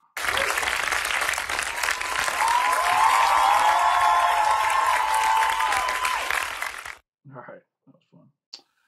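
A large crowd at a live concert applauds and cheers loudly and steadily for about seven seconds, then cuts off abruptly, followed by a few short bursts of speech.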